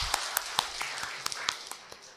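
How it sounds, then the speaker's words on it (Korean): A small church gathering gives a scattered round of handclaps, sparse and uneven individual claps at a low level rather than a full ovation. "우리 장로님께 박수 한번 보내주십시오."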